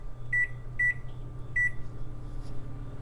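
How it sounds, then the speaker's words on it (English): An oven timer being set gives three short, clean electronic beeps at an even pace, fairly close, over a low steady hum. "I put it on the middle rack and I put the timer on for 20 minutes."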